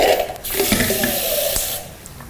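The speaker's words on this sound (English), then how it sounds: "water, just get the rest of the tomato out the tin, put inside" Tap water gushes into a tomato tin in a kitchen while a vegetarian chili is being cooked, a close, steady rushing splash for about two seconds that then cuts off.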